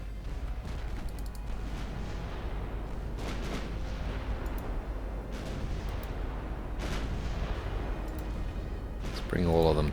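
Heavy 11-inch naval guns booming in Ultimate Admiral Dreadnoughts, a continuous rumble of repeated broadside blasts and rolling low thunder, with talk over it.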